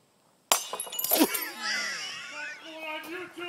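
A beer glass shatters when struck by a golf ball hit from 50 yards, a sharp sudden crash followed by ringing, tinkling fragments, with excited voices and cheering rising over the breaking glass outdoors.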